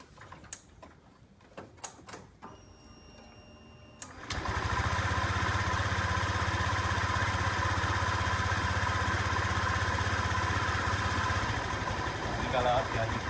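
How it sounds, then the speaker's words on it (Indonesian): Old Honda Vario 125 scooter with a sputtering fault on initial acceleration: a few clicks and taps, then the engine starts and runs at a loud, steady, slightly rough idle close by. "Ini ada motor Vario lama ya, biasa penyakitnya itu dia nyendat dan kadang berebet di awal ya."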